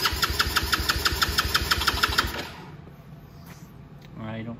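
A Venom X20 125cc motorcycle, an old bike that hasn't run in a long time, starts and idles with a rapid, loud pulsing putter for about two seconds, then the engine cuts out, leaving quieter background sound.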